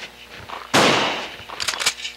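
A single loud shotgun blast in Resident Evil 2, a sharp close crack that decays over about half a second, followed by a few quieter clicks.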